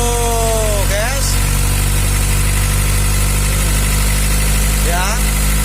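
A Mitsubishi L300 diesel engine idles roughly with a steady low rumble and loud, constant vibration, rising briefly in pitch as it is revved twice.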